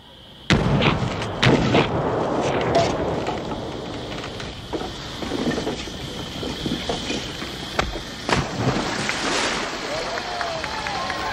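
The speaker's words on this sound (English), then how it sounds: "had the whole thing rigged with some form of electrically detonated charges that had to cut 4 steel hawsers that were through that bridge" Electrically detonated charges cut four steel hawsers on a film-set bridge for an Indiana Jones shoot, setting off a loud burst of sharp blasts followed by sustained rumbling, crackling debris and further bangs, with voices faintly under the din.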